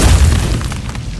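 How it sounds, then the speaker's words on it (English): A grenade explosion sound effect, one heavy close boom with a deep low rumble that swells at once and then thins out over about a second. "The explosion rocked the whole hall."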